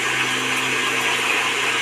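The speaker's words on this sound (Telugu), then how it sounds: "మళ్ళీ మిక్సీ బట్టి జరుగుతుంది టైం పట్టేస్తుంది" A mixer grinder whirs steadily while blending chopped bitter gourd into juice, a constant close motor hum with no speech.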